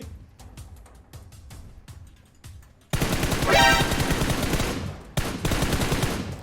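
Gunfire in a shooter game: scattered single shots at first, then a sudden loud stretch of rapid automatic fire close up, briefly cut off before resuming.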